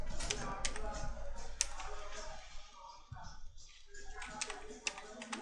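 Typing on a computer keyboard into a browser, a steady run of quick close clicks and taps with a short pause, under a voice.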